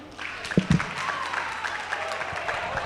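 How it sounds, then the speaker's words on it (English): Brief applause from a small audience at an inter-tertiary debate competition, a steady patter of clapping lasting a few seconds, fairly soft, with a couple of louder sounds near the start. "Round of applause."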